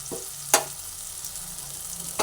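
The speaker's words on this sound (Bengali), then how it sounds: "নুন দেওয়ার পরে আবার একটু নুনটা মিশিয়ে দিচ্ছি" Salt being stirred into okra masala frying in a pan, with a steady sizzle and a few distinct spoon scrapes against the pan, close by and with no talking.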